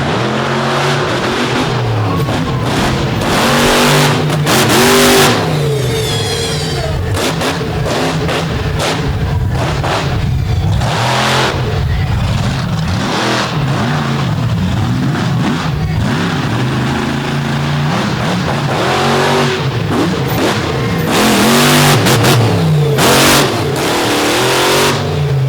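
A Chevy race truck at the 2023 Overdrive Battle event revs hard in repeated loud bursts, the engine roaring up and dropping back over and over, close and forceful with no talk.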